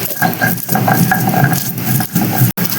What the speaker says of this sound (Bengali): এই যে ধনেটা বেটে নিচ্ছি